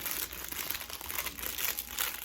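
Plastic packaging around a rose geranium cleansing water is crinkled and crumpled open up close, a dense run of crackling rustles with brief louder bursts and no voices.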